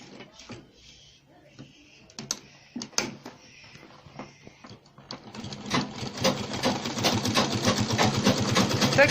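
Sewing machine stitching Ankara fabric, starting with scattered clicks and handling taps, then settling into a steady rapid mechanical whirring that grows louder toward the end, close by.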